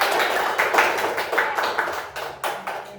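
Applause in a Grade 4 elementary school classroom, a dense burst of many hands clapping together in rapid uneven pulses that taper off over a few seconds.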